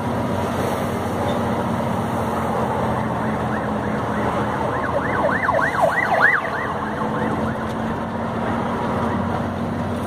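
An ambulance siren wails in rising and falling sweeps from behind a truck on a road, peaking midway under a steady engine drone and road rumble.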